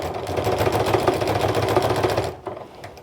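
A sewing machine stitches binding onto the edge of a jelly-roll fabric rug placemat in a fast, even mechanical chatter. It runs close and steady for a few seconds, then stops abruptly, leaving a few faint clicks.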